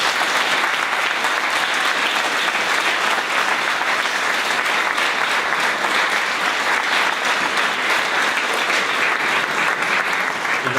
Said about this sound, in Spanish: Ya le vamos a brindar un fuerte aplauso a nuestros invitados.